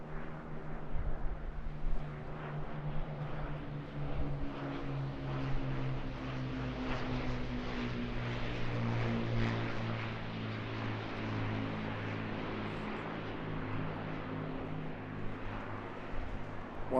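An Avro Lancaster bomber, one of only two still airworthy, flies past at the Eastbourne International Airshow, its four piston engines giving a steady, droning propeller hum that swells and fades faintly at a distance.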